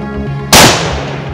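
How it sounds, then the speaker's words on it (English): A single loud rifle shot fired at a buck while deer hunting outdoors, a sharp sudden crack followed by a long decaying rumble that rolls away across the landscape. "flipped the safety off, and I shoot."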